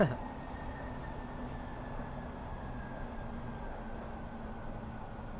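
A Metropolitan Line train in Train Sim World 2020 runs along with a steady rumbling drone and a faint whine held evenly throughout, heard from inside the cab, with no talk.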